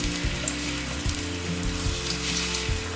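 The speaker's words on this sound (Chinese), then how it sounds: "锅内放入少许油，放入姜片煸香" Ginger slices sizzle in a little oil in a wok, a loud, steady crackling fry with soft stirring bumps recurring through it, no voices.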